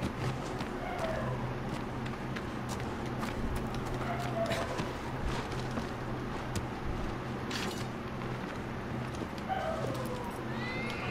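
Horse hooves galloping in the video game Shadow of the Colossus, a steady rapid clip-clop running throughout at moderate volume within a busy game soundscape.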